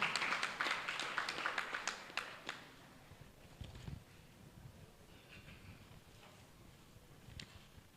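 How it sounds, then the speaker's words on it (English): Applause from a conference audience after a keynote address at a World Envelope Day job fair, dense clapping for the first few seconds then thinning to scattered claps and room noise. "Please, a round of applause for him."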